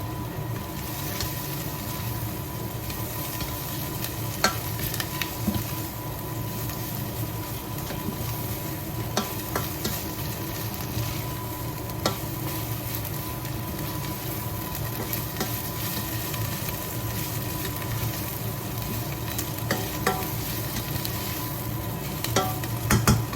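Vegetables with tomato paste frying in a pan for tomato orzo pilaf, a continuous close sizzle with regular scraping and stirring taps throughout, no talk.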